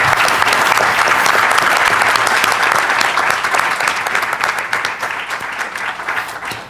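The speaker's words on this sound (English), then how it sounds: "Let's give yourselves a round of applause." Audience applause after a question session at an academic teaching event, loud, dense and sustained, easing slightly toward the end.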